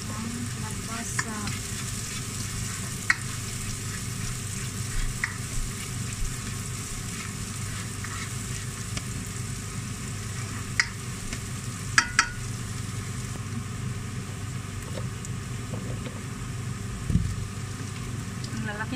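Garlic and onion sauté in a pan with a steady close sizzle and crackle, dotted with occasional sharp clicks and scraping stirs over a low background hum.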